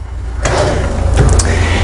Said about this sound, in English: You'll also notice this drawer catches so it doesn't open in transit.